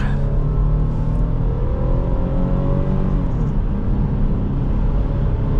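The V6 engine of a 2005 Toyota Highlander 4WD SUV revs up loudly and steadily, pitch climbing as it accelerates hard toward 6,000 rpm, with a continuous heavy rumble throughout and no talking.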